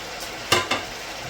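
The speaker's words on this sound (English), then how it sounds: "So we're going to go in with our peppers and our onions." Peppers and onions sizzle in a hot pan, with two sharp hissing bursts as they drop in over a soft steady frying crackle.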